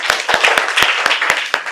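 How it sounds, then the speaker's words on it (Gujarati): Children in a school class clap for themselves: a steady, even beat of about eight sharp hand claps close by, over a light background murmur. "ચાલો પોતાની માટે તાળીઓ પાડો"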